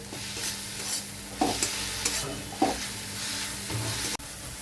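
Garlic, ginger and green chilli paste sautés in a pan, a steady close sizzle broken by several scraping stirs, with no talking.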